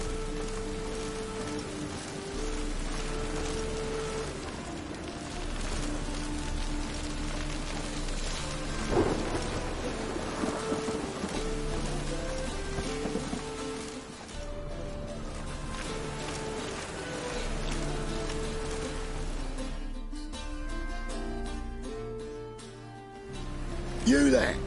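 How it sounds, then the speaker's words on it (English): A thunderstorm with continuous heavy rain and deep rolling thunder, steady and close throughout, with a sharp crack near the end; a voice may be present in the background. "A storm, damn it."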